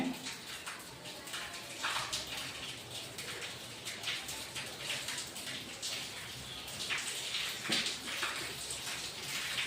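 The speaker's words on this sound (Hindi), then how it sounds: "अरे बारिश भी जोर लगे रहे" Heavy rain pours steadily during a power cut, a dense, even hiss of water that fills the whole clip with no speech over it.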